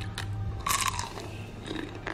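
A single close, crisp bite into a crunchy snack of fried wonton skin filled with cheese, followed by faint chewing.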